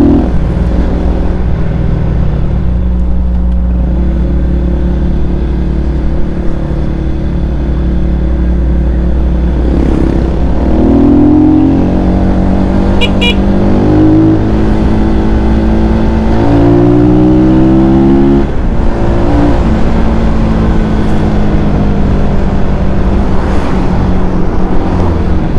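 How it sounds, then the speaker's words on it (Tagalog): A Rusi Flash 150X FI fuel-injected motorcycle sits in neutral as its throttle is twisted, the engine droning loud and close, then climbing and falling through several revs before settling back to idle. "Kahit pihitin natin yung throttle natin,"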